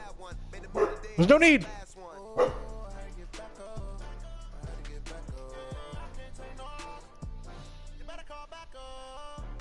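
A dog barks and yips in several sharp, loud bursts early on, then gives fainter whimpers. A person talks over the barking.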